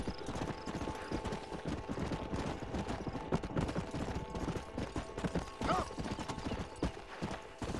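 Horse hooves clip-clop steadily and up close in Red Dead Redemption 2, a continuous rhythmic trot with creaking tack and a brief whinny-like sound partway through.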